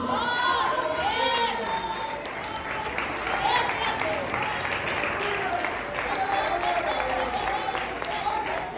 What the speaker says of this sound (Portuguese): Pode se assentar e glorificar com as fortes palmas para Jesus.